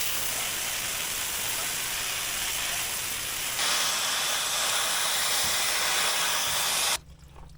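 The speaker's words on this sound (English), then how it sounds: "So I'm gonna shove the hose and clean that out again from both sides." Water hose spraying to clean the radiator screen of a John Deere compact tractor, a loud, steady broadband hiss that grows slightly stronger midway and cuts off abruptly near the end.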